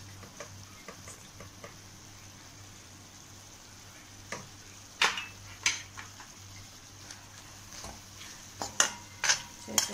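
Sabudana khichdi is stirred in a pan as red chili powder goes in, with a steady low sizzle and intermittent scraping clinks of the spoon against metal growing more frequent toward the end, no voices.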